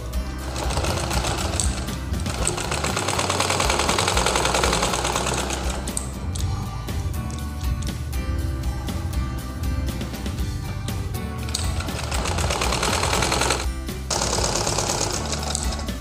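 A sewing machine stitches a blouse neckline, its loud, rapid needle chatter running almost without pause, with a few brief changes in pace along the seam.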